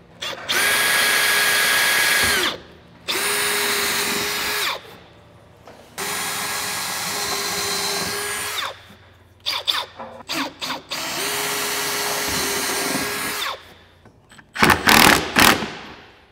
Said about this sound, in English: I need to drill out these holes.